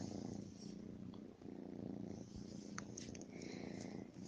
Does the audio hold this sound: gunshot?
no